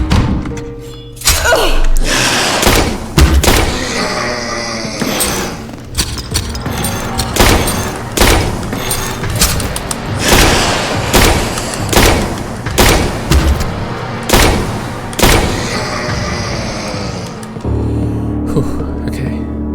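Gunfire in the video game Tormented Souls: repeated heavy shots and thuds at uneven intervals, loud and close, with no talk.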